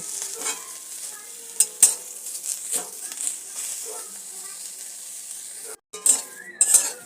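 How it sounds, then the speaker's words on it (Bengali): Neem leaves dry-roasted in an oil-free wok, stirred repeatedly with a spatula that scrapes and clinks against the metal, with a light crackling sizzle throughout and a brief break near the end. "শুকনো কড়াতে আমি খুব ভালো করে পাতাটাকে ভেজে নেব"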